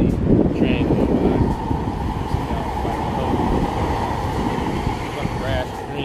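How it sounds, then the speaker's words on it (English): A train rumbles past close by, a heavy, continuous roar with rattling wheels and clatter that holds steady before easing slightly toward the end. "probably don't want to see trains going by"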